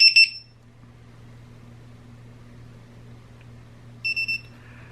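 A pair of shrill electronic beeps from a VIFLY Beacon lost-drone finder buzzer at the start and a quick triple beep near the end, with a low steady hum running underneath.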